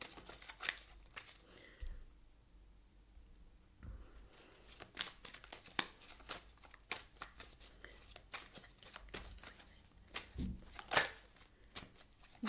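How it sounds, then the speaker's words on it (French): Tarot cards are shuffled and laid down in close, quiet repeated bursts of riffling and crisp slaps, with short pauses between handfuls and no talking. "On va rajouter quelques cartes."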